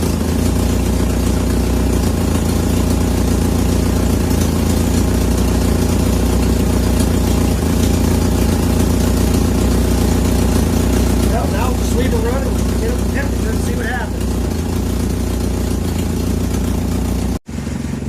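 A Ford Pinto engine idles steadily through a newly fitted exhaust, a loud, even low rumble that runs unbroken, while someone talks briefly over it partway through.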